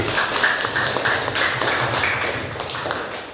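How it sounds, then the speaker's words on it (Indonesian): Classroom applause for a student, heard as a dense, steady wash of hand claps that goes on for about three seconds and fades slightly toward the end. "Beri aplaus untuk Yosua"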